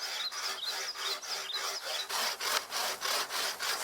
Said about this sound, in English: I'm going to use the bow saw.